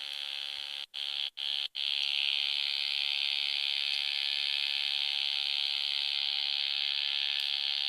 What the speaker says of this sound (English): You just recorded static.